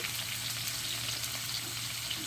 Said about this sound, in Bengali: প্রথমে আমি কুমড়ো, ফুলকপি, আলু, গাজর একসঙ্গে ভেজে নেব।